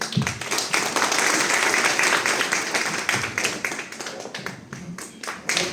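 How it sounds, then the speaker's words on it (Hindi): An audience claps at a gathering, a busy mix of individual claps swelling then gradually thinning, with a few sharper taps near the end. "तालियां बज रही साथियों"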